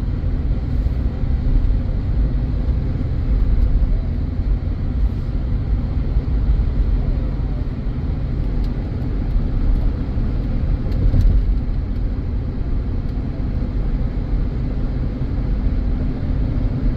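A 2005 Chevy Trailblazer engine while driving: a steady, low rumble of motor and road noise that holds evenly throughout, fairly loud, with no talking over it.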